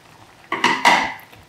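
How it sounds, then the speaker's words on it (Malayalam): A lid goes onto a metal cooking pot of beef brain fry on the stove: a couple of sharp metallic clanks and a brief rattle close by, then quiet, with no talking. "അടച്ചു വെച്ചിട്ട് നമുക്കിത് വേവിച്ചെടുക്കാം"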